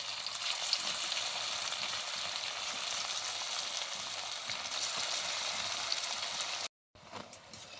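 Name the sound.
semolina sweets frying in oil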